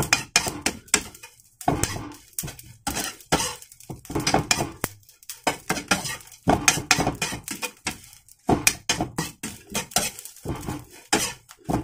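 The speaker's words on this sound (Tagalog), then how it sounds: "Gigisa-gisa natin siya." Food being sautéed in a pan on a lowered stove flame, heard as repeated clattering scrapes of a utensil against the pan in quick irregular bursts, close and fairly loud, with no talking.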